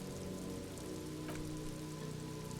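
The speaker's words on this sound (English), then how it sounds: "Sheets of rain cover over the water." Steady rain falls in the video game Disco Elysium, a soft continuous hiss of drops on water and surfaces that holds evenly throughout, with no voices.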